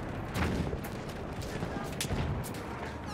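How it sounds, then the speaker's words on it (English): Dense battlefield gunfire in Battlefield 1, an enemy machine gun firing among continuous rattling shots and booming blasts, loud and steady throughout with a few heavier bursts. "There, enemy machine gun."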